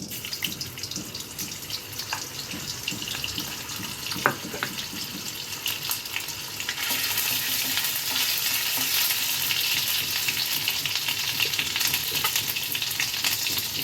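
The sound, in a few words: vegetables frying in pan with ginger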